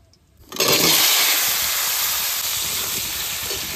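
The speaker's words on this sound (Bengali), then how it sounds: "এবার আলুগুলো ভেজে নেব।" Potatoes dropped into hot oil with cumin and bay leaf, bursting into a loud, steady frying hiss that holds on close by after a quiet start.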